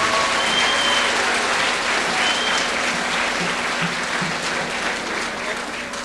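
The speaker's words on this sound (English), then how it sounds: "Let's give her a round of applause" An audience at a Voices of the North 1997 show applauds, a dense, even wash of clapping from a crowd that continues steadily throughout without pause.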